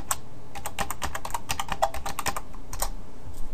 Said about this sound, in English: we want to do that by just typing Heroku login